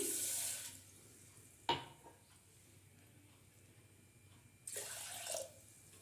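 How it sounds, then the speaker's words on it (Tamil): Water splashes briefly into a pot at the start, a clunk follows, then after a quiet pause another short burst of pouring water, about one and a half glasses, while cooking moong dal payasam. "ஒரு ஒன்றரை கிளாஸ் தண்ணி அளவுக்கு நல்லா ஊற்றி"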